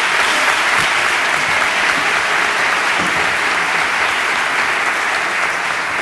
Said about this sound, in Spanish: un fuerte aplauso, por favor, para Susi.